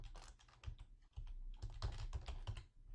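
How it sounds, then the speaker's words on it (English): Quick bursts of keystrokes on a computer keyboard, close and fairly quiet, a short run of typing with brief pauses between clusters. "So why don't I just type in subscribe,"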